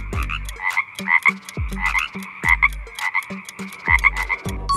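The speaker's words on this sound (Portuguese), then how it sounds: "Se você respondeu sapo, você acertou." A frog croaks loudly and close, a steady run of rhythmic, throaty calls repeating about twice a second, with no voices.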